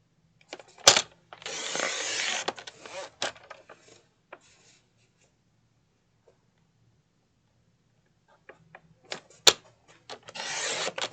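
Strips of paper for a bow are sliced with a trimmer in a few short rasping strokes, close and quiet, with clicks between cuts and a long silent pause before another cutting pass.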